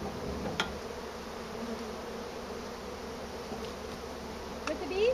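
Bees drone steadily through a hive removal, a close, continuous buzz with brief louder passes near the mic and occasional faint handling noises.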